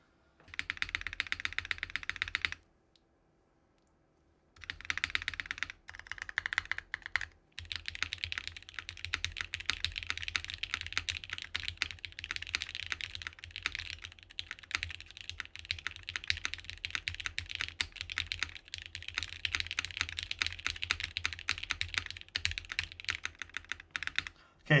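Steady, fast typing on a tenkeyless mechanical keyboard with freshly lubed spacebar stabilizers, close and clear, with dense clacking keystrokes and a short pause near the start before the typing resumes and runs continuously.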